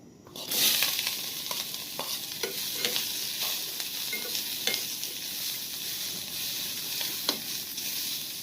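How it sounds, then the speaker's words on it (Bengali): Chillies and onions fry in a pan with a steady, close sizzle, broken by scattered scraping strokes of stirring throughout; no talking. "মরিচ পেঁয়াজ এগুলো হইতেছে ভাইজা নিব, ভালোভাবে একবারে ভেজে ভেজে নিব"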